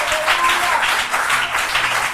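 A church congregation applauds during a French-language sermon about God's promises, steady dense clapping filling the whole moment with voices faintly mixed in.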